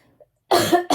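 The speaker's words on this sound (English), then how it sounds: "I'm still a little scratchy, a little coughing a little bit." A single harsh, close cough after a brief silence, with the start of another at the very end.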